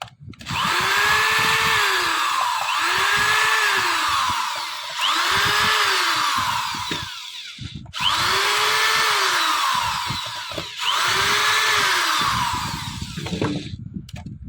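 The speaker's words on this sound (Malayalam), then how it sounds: "ആദ്യം ഇതിൻ്റെ സ്ക്രൂ എല്ലാം നമുക്ക് അഴിച്ചെടുക്കാം." A power screwdriver backs screws out of an RC toy car in several whirring bursts, each rising and falling in pitch with short pauses between. The tool runs loud and close, with no talking.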